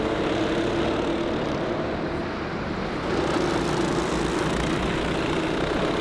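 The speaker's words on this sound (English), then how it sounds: "Thomas Cucurilla Yeomans has passed the commentary box with a very sick sounding Honda engine" Honda Cadet kart engines racing past the commentary box at a Kimbolton kart race, one engine running rough; a loud, continuous buzzing engine drone that swells slightly partway through, heard without talk.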